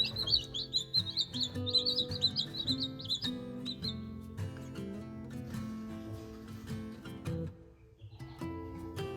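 Baby chicks chirp in a rapid, high-pitched run for the first few seconds and then fade to occasional peeps, heard close up over a low steady hum under the warm brooder.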